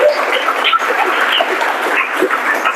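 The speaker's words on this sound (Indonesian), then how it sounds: "tepuk tangan buat kita semuanya." A school audience claps at a closing session of SMPT Harapan Bunda Purwokerto. The applause is a sustained, busy patter of many hands, fairly loud and near, with no talk over it.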